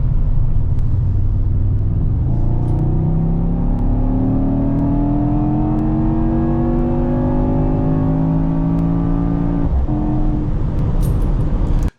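A Mercedes-AMG GT 63 S E Performance with its hybrid engine accelerating hard, a loud, close rumbling roar that climbs steadily in pitch through several gears, with a brief dip at a shift near the end.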